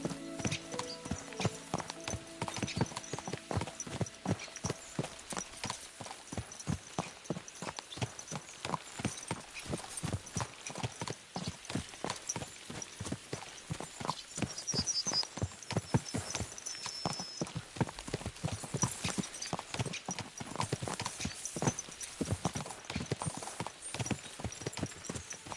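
Horses galloping in a video game, a fast continuous clip-clop of hooves with a rolling rhythm, loud and close throughout, with no talk over it.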